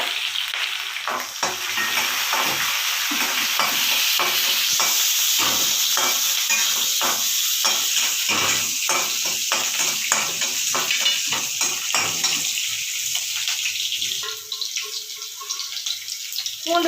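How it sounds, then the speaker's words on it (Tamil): Garlic and green chilies sizzle loudly in hot oil in a pan for kothu chapati, with dense, close frying crackle and repeated stirring scrapes throughout, no talking. "பூண்டு, பச்சை மிளகாய் இது ரெண்டுத்தையும் போட்டு கொஞ்சம் நல்லா வதக்கிக்குவோம்"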